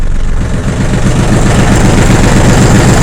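A Yanmar F16D diesel tractor engine idles loud and close, a steady low throbbing chug with even rhythm throughout and no voices.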